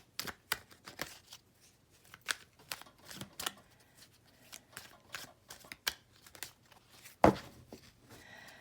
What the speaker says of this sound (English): And I'm going to go ahead and pull a couple tarot cards.